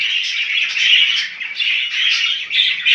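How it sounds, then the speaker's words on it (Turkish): Budgerigars kept in a home breeding cage chirp and warble continuously, a dense overlapping chatter from several birds close by, with brief dips in the flock's noise. "Gördüğünüz gibi arkadaşlar burada diğer kuşlar var."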